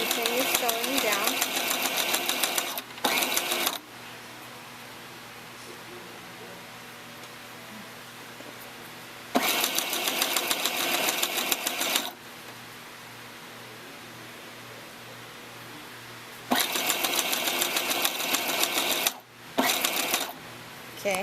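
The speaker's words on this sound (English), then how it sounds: "Continue sewing down." A sewing machine stitches a tulle tutu purse in three loud runs of rapid mechanical whirring, each a few seconds long, separated by quieter gaps of low background hum.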